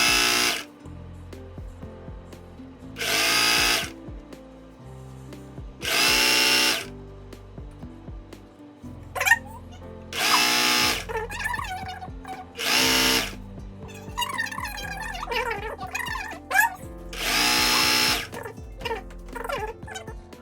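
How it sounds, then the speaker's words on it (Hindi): Electric sewing machine stitching fabric for palazzo pants in repeated whirring bursts of a few seconds each, with brief pauses and small mechanical clicks between runs, close and loud. "अब हम इसे चारों फैब्रिक इसके बराबर करेंगे और धीरे धीरे इसकी सिलाई लगाएंगे।"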